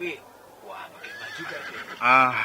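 A white horse neighs in a loud, close whinny near the end after brief softer horse sounds, with someone speaking under and around it.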